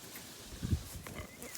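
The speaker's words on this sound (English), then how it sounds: "There's that big old lazy pig right there." Pig on a homestead lying in its wallow in the morning, giving a few low, faint grunts in a short cluster, quiet and close by with no talk over it.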